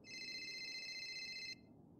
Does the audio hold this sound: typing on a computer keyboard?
no